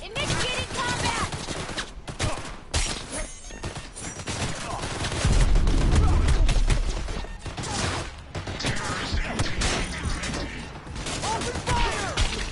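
Dense, rapid gunfire from the video game Cyberpunk 2077 rattles in near-continuous bursts, building to a heavier, louder stretch midway before easing back into sustained shooting with game effects around it.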